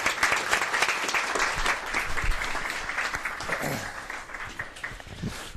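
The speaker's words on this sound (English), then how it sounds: "Let's give a big round of applause again." Audience applause fills a board meeting room, steady sustained clapping from a crowd that carries on for several seconds at a fairly even level.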